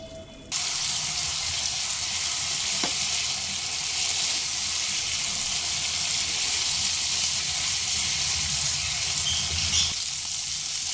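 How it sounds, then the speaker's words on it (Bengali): Chicken with spices and coriander powder cooking down in its own released water over a medium flame, a steady, broad hissing sizzle that starts abruptly and holds evenly, with a faint clink now and then. "এবার মিডিয়াম ফ্লেমে চিকেনের যে জলটা বেরিয়েছে এই জলে মিডিয়াম ফ্লেমে সুন্দরভাবে কষিয়ে নিতে হবে"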